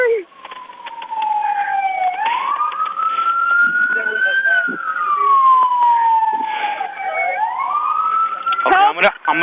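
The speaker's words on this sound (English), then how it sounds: "I hear sirens now." Emergency vehicle sirens wail in long rising and falling sweeps, loud and approaching, with other siren tones overlapping and a sharp burst of louder yelping near the end.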